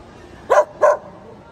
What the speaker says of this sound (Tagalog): Mapalad na aso. Nangangahol kahit walang kaaway.